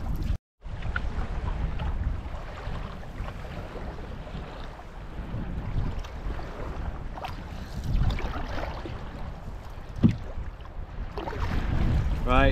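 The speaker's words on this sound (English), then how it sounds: "It's just too windy now, and it's only set to get worse" Strong gusty wind roars across a choppy Scottish loch in Assynt, buffeting the microphone with a loud, constant low rumble and water sloshing beneath it, broken by a few sharp knocks. Nobody speaks.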